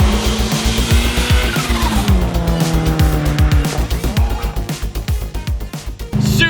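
A 450-horsepower Subaru rSTI built as a 22B lookalike is driven hard. The engine note climbs through repeated gear shifts in rising sweeps, loud and close, with a brief tire-squeal edge and a burble between pulls.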